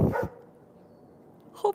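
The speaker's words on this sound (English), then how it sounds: "excuse my neighbor's dog." A neighbor's dog barks once at close range at the start, then a second short bark sounds near the end, with quiet outdoor garden air between.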